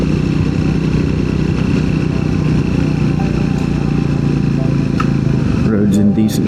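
Small-bore motorcycles riding together on a rural road, a continuous loud engine drone and wind rush close by, with faint talk heard under the noise.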